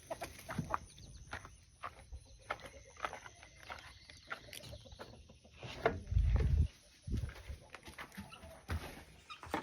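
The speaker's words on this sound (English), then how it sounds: "just thought I'd show you how the baby birds are doing that we brought in here, the two little young roosters" Young Cornish cross roosters in a chicken coop give scattered clucks and soft calls, with intermittent shuffling and pecking noises close by and a brief loud thump partway through.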